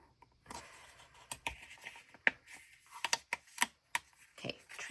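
Scissors snipping and trimming the edges of paper pages in an A5 notebook, a run of sharp close clicks and crisp cuts coming in uneven bursts, with no talk.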